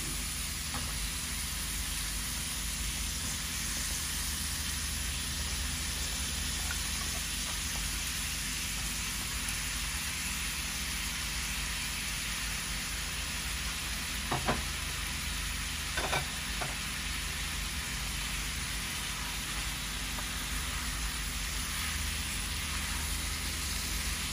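Fish and potatoes sauté in a pan with a steady, low sizzle that runs throughout, and a few soft clinks of stirring come near the middle.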